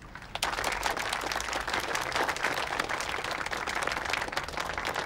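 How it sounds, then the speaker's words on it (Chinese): An audience claps continuously through a stage event honoring a new company head, a dense, steady burst of applause from a crowd, loud and sustained without speech. "大家鼓掌。"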